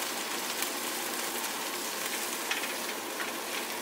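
Tomatoes hitting a hot pan set up a loud, even sizzle, a dense crackling hiss that holds steady without pause and with no voices over it.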